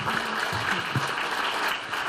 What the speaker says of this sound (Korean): 박수 보내드리죠